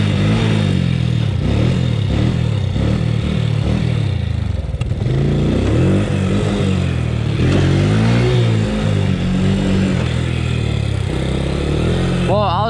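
A Honda FourTrax ATV engine running and revving close by during a ride, rising and falling in pitch with clattering over rough ground, continuous and loud throughout.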